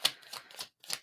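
Tarot cards being shuffled briskly for a zodiac reading, heard as four quick crisp riffling bursts with short gaps between them, close and fairly quiet.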